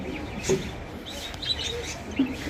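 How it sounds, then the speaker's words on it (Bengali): A female dove perched in a backyard setting gives a few faint, brief chirping calls spaced through quiet outdoor background noise. "ওই যে ফিমেল ঘুঘু পাখিটা বসে আছে"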